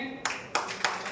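A few loud, sharp hand claps ring out at an even pace during a ceremony in a building in Varanasi, each clap distinct and close, with a faint voice at the start.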